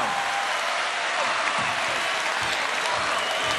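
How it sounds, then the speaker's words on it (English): A crowd roars and applauds at a table tennis final, a dense sustained wash of clapping and cheering that stays loud and even throughout. "the roar in the crowd."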